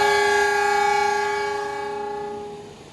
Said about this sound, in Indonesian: kereta api Ranggajati berangkat dari stasiun Nganjuk pada pukul 14:17